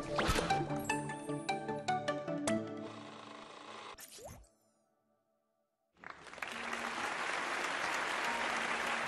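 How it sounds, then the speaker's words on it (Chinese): An audience at a televised archaeology lecture programme breaks into loud, dense, sustained applause after a brief silence, following a short burst of music. "我们把掌声送给全老师，感谢您。"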